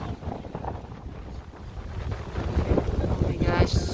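Wind blows hard across a beach on Bantayan Island, rumbling and buffeting the microphone in gusts that strengthen toward the end, with no clear speech.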